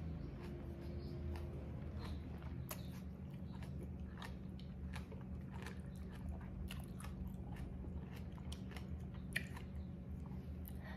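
Close, quiet crunching and chewing of stir-fried bok choy in oyster sauce, with crisp bites repeating irregularly over a soft background hum and no speech.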